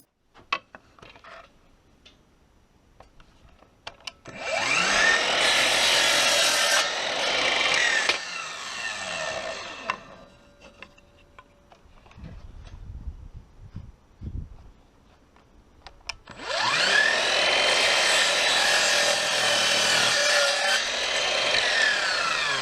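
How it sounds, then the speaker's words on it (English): A small battery-operated Heinel chop saw cuts scrap wood to length for shelves. Two long, loud whining cuts with rasping blade noise are separated by quieter motor spin-down and handling noises, heard up close. "Just measuring the correct lengths so I can cut it on my little battery operated Heinel chop saw."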